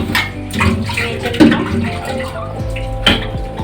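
Water running from a partly opened tap while dishes are washed at home, a steady close splashing stream with a few knocks and clinks of utensils, no talk.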